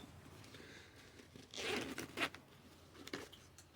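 Faint zipper pulls on a hand-laced side pocket of a pannier bag: a few short, quick rasps in close succession.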